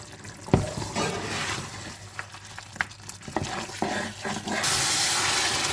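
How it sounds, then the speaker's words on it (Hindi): Tender mutton being fried on high heat in a pan, loud steady sizzling broken by scraping, clattering stirs and sharp knocks of a spoon against the pan, with a louder burst of sizzle near the end. "अब हम इस मुकाम पर इसे तेज़ आंच पर भूनेंगे"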